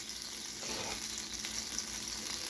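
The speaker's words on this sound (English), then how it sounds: "You can hear that griddle sizzling hot, about 450." A flat-top steel griddle heated to about 450 degrees sizzles steadily and close up, a dense continuous hiss with small crackling swells and no talking.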